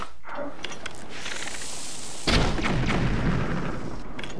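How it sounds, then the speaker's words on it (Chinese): A bomb sword detonates against a rock in Zelda: Breath of the Wild, a sudden heavy boom midway through that rumbles on after a quieter stretch of game ambience. "你要用炸弹剑把它炸掉"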